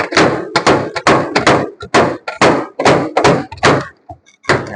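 A panel hammer knocks out a dent in a car's front fender, giving a rapid series of sharp, close metallic raps in uneven bursts, followed by a short pause and a final strike.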